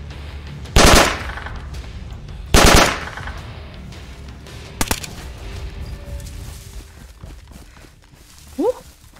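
Machine gun fire in the video game DayZ arrives as two loud, short bursts close together, then a sharper single crack and a fainter later shot, with quiet game ambience in between.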